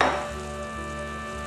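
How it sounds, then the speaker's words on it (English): Vegan Worcestershire sauce hitting a hot pan of vegan meaty spaghetti sauce, with a sharp initial sizzle that settles into a steady frying hiss, with no voices. "Now I'm going to add my vegan W sauce."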